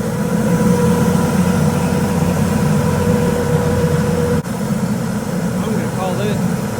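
A boat engine drones steadily at about 1,500 RPM, loud and close, with a faint voice briefly near the end.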